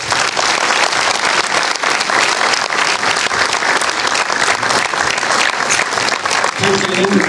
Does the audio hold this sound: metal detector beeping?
no